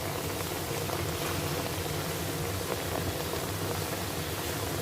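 Paksiw na bisugo, a fish dish with eggplant, ginger, onion, garlic and long green chilies, boils in a pot, giving a steady, dense bubbling hiss that holds evenly throughout without any talk.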